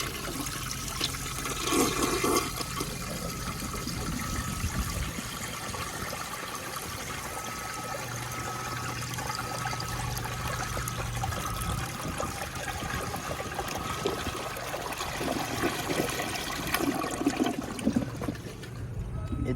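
A 1972 Kohler Wellworth toilet flushes with a steady, close rush of swirling water that carries on for nearly twenty seconds, ending in trickling refill, and no one speaks.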